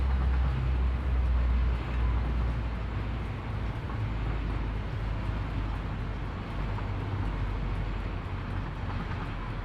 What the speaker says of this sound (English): The loading of the train is definitely pretty damn loud compared to the rest of the game.